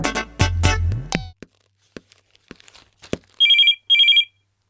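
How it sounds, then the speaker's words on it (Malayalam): At a police station, someone speaks briefly before a telephone sounds two short, shrill bursts of ringing in a quiet room. "ഡേ ഫോൺ എടുക്ക്."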